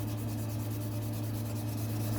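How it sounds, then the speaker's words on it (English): Steady abrasive rubbing of 2000 grit sandpaper on a nitro RC helicopter muffler, a continuous close scratchy hiss with a faint repetitive stroke rhythm and a low background hum. "Just keep sanding"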